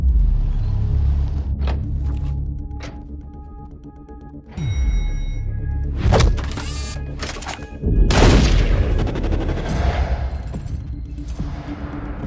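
Gunfire and explosions from an action movie trailer: bursts of rapid shots, loud booming blasts with rumbling tails, and sharp metallic impacts, dense and close with no speech.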